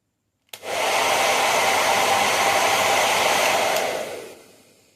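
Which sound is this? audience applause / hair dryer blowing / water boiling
hair dryer blowing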